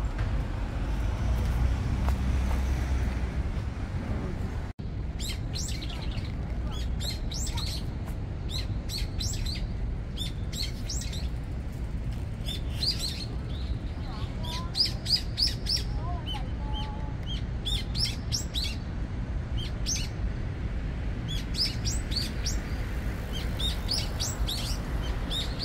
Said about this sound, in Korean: 새가 그 나무 사이로 앉아서